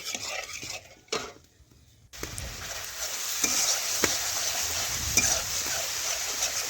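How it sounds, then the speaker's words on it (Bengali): Spice paste sautéing in a pan after water is added, a steady moderate sizzle with intermittent stirring scrapes and a few sharp utensil clicks, starting after a brief quieter gap. "এখন জল দিয়ে আবারও বেশ কিছুক্ষণ ধরে আমি কষে নিচ্ছি"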